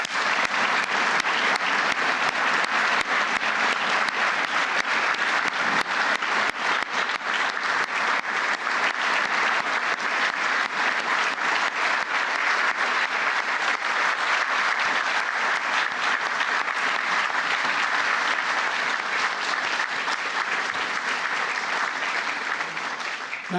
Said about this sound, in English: I'd like to give one last round of applause to the recipients of the Medal of Valor.